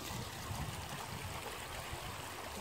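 Dutcher Creek flows through a wooded thicket, a steady, close rush of babbling water that fills the whole stretch with no talk.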